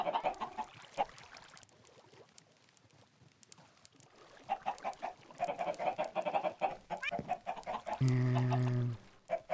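Chickens clucking in the Minecraft video game, several short bursts of clucks coming in quick clusters, close and clear, with a brief tonal in-game sound near the end.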